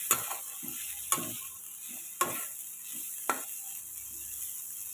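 Beans and potato fry being stirred in a pan, a faint steady sizzle broken by four sharp spatula scrapes or taps spaced about a second apart, with no voices.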